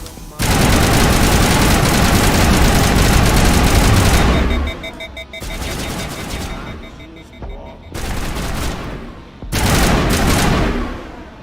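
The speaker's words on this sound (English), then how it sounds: "Looks like we're just gonna have to use bullets." Automatic gunfire in Mass Effect Legendary Edition: a long, loud burst of rapid shots, then several shorter bursts separated by brief gaps.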